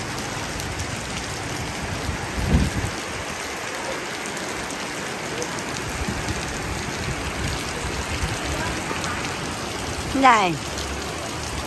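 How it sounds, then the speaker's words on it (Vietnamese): Heavy rain pours down in a steady, dense hiss that keeps building, with a couple of brief nearby knocks and a short voice breaking through near the end. "Mưa càng ngày càng lớn quý vị ơi."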